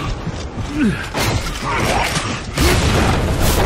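A frag grenade in Aliens vs Predator goes off as a loud, close blast late on, cutting through a dense clatter of mechanical combat noise.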